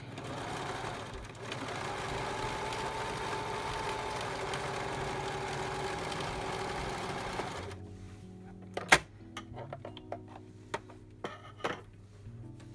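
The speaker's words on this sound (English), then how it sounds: "So first thing first is to sew the center seam, back stitch" A sewing machine runs steadily for several seconds, stitching the center seam of an ice-dyed cotton face mask, then stops and is followed by a few sharp clicks and knocks of fabric handling.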